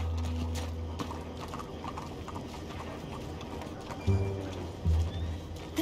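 Horse hooves clop steadily in Red Dead Redemption 2, a rhythmic gallop mixed with game ambience, with a few louder thumps near the end.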